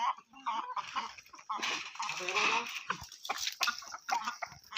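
Gavran country chickens cluck and squawk on a farm, a busy chorus of overlapping calls and cackles rising and falling close by, with a voice faintly beneath.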